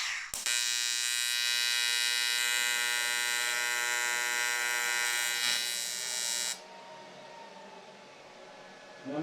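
A TIG welding arc forming a puddle gives a loud, steady electric buzz with a strong harmonic whine that starts abruptly, holds for several seconds, then cuts off to a quieter hum, with no talking.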